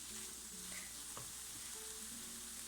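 Eggplant sautéing in oil in a pan, a steady close sizzle and hiss with a faint clink of stirring partway through, continuous and without talking.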